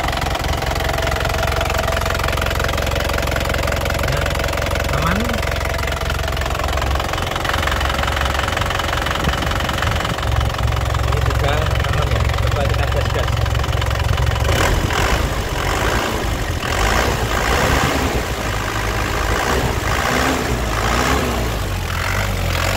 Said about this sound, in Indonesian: Untuk mesinnya juga anteng, tidak pincang.